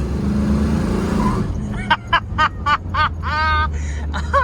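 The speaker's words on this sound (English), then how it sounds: "It's shifting too hard in a second. It's spinning the tires." A 1968 Pontiac Firebird custom hot rod revs hard, its engine loud and close before cutting to a run of sharp clipped bursts and squealing as it shifts too hard and spins its tires, with a voice briefly heard over it.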